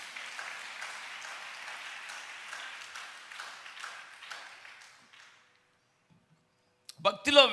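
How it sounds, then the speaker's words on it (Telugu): An audience at a church sermon applauds in a sustained wash of many hands clapping that tapers off and stops after about five seconds, followed by a brief burst of voice. "చప్పట్లు కొట్టి ఒకసారి."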